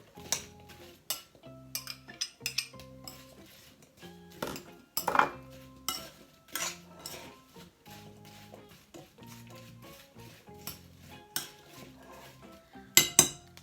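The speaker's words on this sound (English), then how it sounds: "I'm going to mix these ingredients up so that we can have a consistent flavor throughout the entire filling" Apple pie filling ingredients are mixed in a bowl, with repeated clinks and scrapes of a utensil against the dish in an irregular rhythm, close by, and a few sharper knocks along the way.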